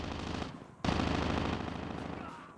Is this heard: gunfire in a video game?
yes